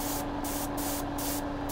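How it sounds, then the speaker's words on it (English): An airbrush spraying primer hisses steadily, with a constant broadband rush broken into short regular pulses as little jets sputter out, close and continuous with a faint underlying hum. "As you can see, when I'm spraying, there are little jets coming out."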